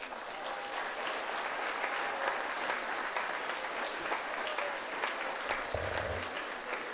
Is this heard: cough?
no